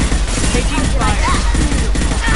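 Dense, continuous gunfire from a Mass Effect 2 combat firefight, loud and close, with rapid overlapping shots and some voices mixed in.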